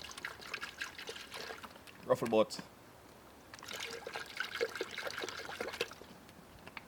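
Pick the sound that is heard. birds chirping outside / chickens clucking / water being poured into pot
water being poured into pot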